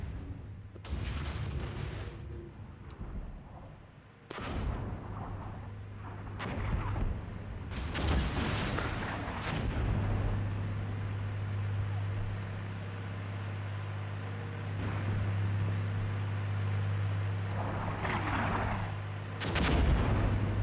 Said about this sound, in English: Enemy is launching all arty on this position, which is a good idea.